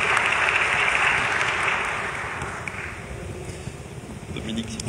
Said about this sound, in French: Sous vos applaudissements, mesdames et messieurs